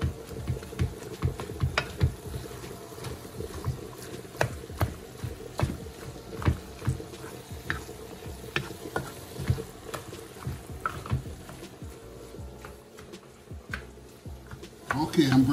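Ground meat being broken up in a hot pan for shepherd's pie, with irregular scraping and clattering of a utensil over a soft sizzle, while a person talks.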